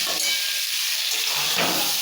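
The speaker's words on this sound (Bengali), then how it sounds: "এই যে সবজিটা ভাজছি ভালো করে" Vegetables sizzle as they fry in oil in a pan. A brief, close, steady hissing crackle fills the whole moment.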